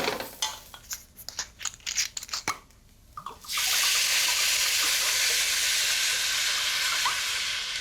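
Onions and rice for a mushroom risotto are worked around a hot pan, first with scraping and clattering stirs, then a loud, continuous close-up sizzling hiss that holds steady to the end.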